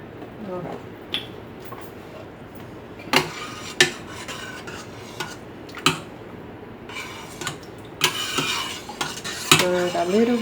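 A spoon scrapes and clinks against a pot as heavy whipping cream sauce with asparagus is stirred, with scattered metallic knocks, a few busier rasping stretches, and a voice briefly heard near the end.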